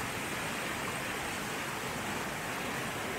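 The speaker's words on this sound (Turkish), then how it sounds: "Yani sesi duyuyorum şu anda. Dere coşmuş durumda." An overflowing, flooded creek rushes continuously, a dense, steady broadband roar of water with no pauses and no voices.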